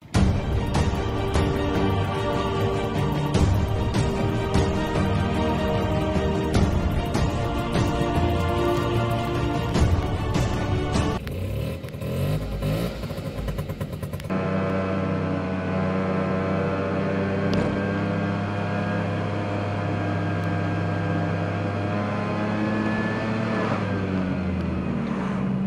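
A Piaggio Ape 50 three-wheeler labours up a steep hill, its small engine droning steadily close by with a buzzy, strained tone that changes character partway through and then holds a lower, smoother hum.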